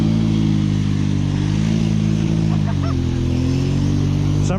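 A Can-Am XMR 570 ATV nicknamed Swamp Monster revs hard while stuck in a grassy ditch, its engine droning loud and close with steady harmonics that dip and climb as the throttle shifts.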